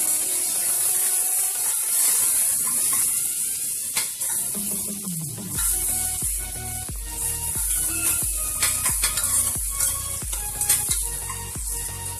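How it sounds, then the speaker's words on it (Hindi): Chopped onions cooking in a pan for vegetable biryani until they turn reddish-brown. A continuous sizzle runs throughout, later joined by a series of sharp, rhythmic knocks and scrapes of stirring against the pan, close and fairly loud. "प्याज जो है वो 2-4 मिनट तक पकाएंगे, जब तक कि इसमें लाल रंग ना आ जाए"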